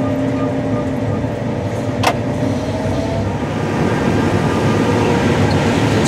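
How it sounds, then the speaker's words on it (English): A CLAAS Lexion 7500 combine harvester works through twelve rows of corn in Kentucky, giving a loud, steady low mechanical drone with constant rumble and a brief sharp click near the middle, heard up close. "they help guide the combine through the 12 rows of corn as it's harvesting"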